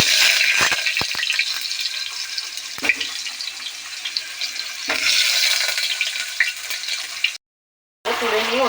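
Potatoes and onions fry in oil inside an open pressure cooker, producing a dense continuous sizzle with occasional clinks and stirring scrapes close by, cut by a short silent gap near the end.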